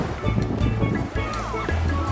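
Ocean surf at Panama City Beach, Florida, washes in a continuous low roar with wind buffeting the microphone, while a voice speaks faintly over the waves.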